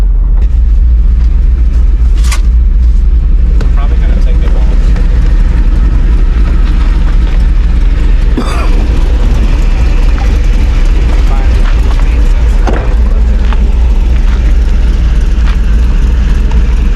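A pickup truck's swapped-in 5.3 V8 idles steadily through its stock muffler, a close, continuous low rumble with talking over it and a few brief knocks.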